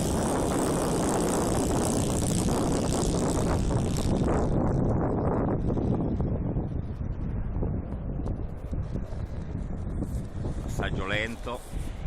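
Propeller engine of an RC Cessna 177 Cardinal ski-version model airplane making a slow pass, a buzzing drone mixed with wind noise, loud early then fading as it moves away.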